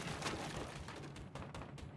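Rapid gunfire rattles in Rainbow Six Siege on Xbox One X, a steady stream of crackling shots and thuds running through the whole moment, with a voice talking over the fight.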